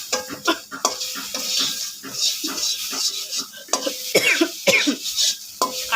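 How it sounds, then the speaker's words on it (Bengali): A few sharp coughs break out beside a frying pan where spices sizzle in oil, mixed in with close, busy stirring and scraping. "কাশি চলে আসছে"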